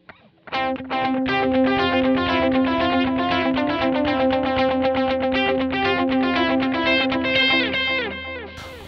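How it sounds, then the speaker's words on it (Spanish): Electric guitar run through a Morning Glory overdrive pedal and a dotted-eighth delay, with a Strymon Big Sky reverb in the chain, playing a bright, lightly driven picked riff with echoing repeats, steady and alone. "Voy a prender el Morning Glory y un delay a corchea con puntillo."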